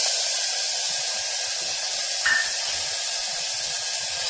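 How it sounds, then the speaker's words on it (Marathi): Mint and coriander sizzling in hot oil with curry leaves in a pan, a steady, loud hiss that holds evenly throughout, with no talking. "आणि हे छान आपण आता परतून घेणार आहे तेलावर, पुदिना आणि कोथिंबीर।"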